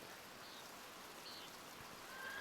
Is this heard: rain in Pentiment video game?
yes